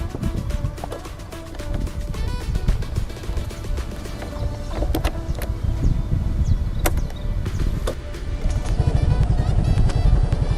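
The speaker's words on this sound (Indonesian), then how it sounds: "gimana suara dari Yamaha Fazio ini saat pertama kali di starter" A Yamaha Fazzio 125 hybrid scooter starts up and settles into a smooth, low, steady idle hum, close and fairly quiet throughout, with a few light mechanical clicks.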